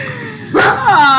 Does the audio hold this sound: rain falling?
no